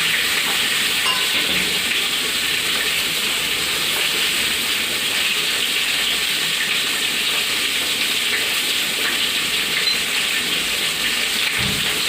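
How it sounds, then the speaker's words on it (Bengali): Bay leaf, chopped tomato and four green chilies sizzle in hot oil, giving a loud, steady hiss with crackling that stays level and unbroken throughout, with no talking. "তেলের উপর আমি দিয়ে দিচ্ছি এই একটা তেজপাতা দিয়ে দিচ্ছি একটুখানি টমাটো টমাটো আমি কাটা দিচ্ছি আর কাঁচা লঙ্কা দিয়ে দিচ্ছি চারটি"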